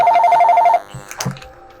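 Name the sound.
telephone ringing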